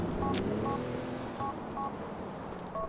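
Phone keypad dialing in the video game GTA IV: a series of short, evenly spaced dual-tone beeps, moderately loud, over a steady low rush of background noise, with no talking.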